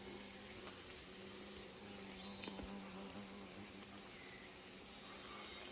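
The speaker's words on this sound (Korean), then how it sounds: "금방 지금 말벌이 또 한 마리 와서 웅웅거립니다" A hornet buzzing near a beehive, a continuous low droning hum that stays steady and close throughout, with a faint higher whine rising briefly midway; no voices.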